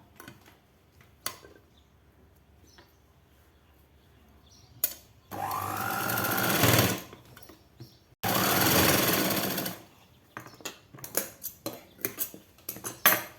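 A sewing machine stitches a doubled hook strip on a 42-inch blouse in two loud bursts of running, separated by a pause, with quieter clicks and handling taps of fabric and parts before and after.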